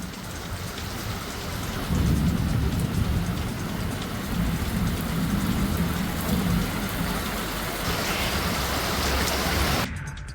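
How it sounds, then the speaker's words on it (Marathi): Heavy evening rain in Vasai-Virar pours down steadily and loudly, a dense continuous hiss of drops striking surfaces, with no voices. "वसई विरार भागामध्ये संध्याकाळी पावसानं चांगलाच धुमाकूळ घातलेला आहे"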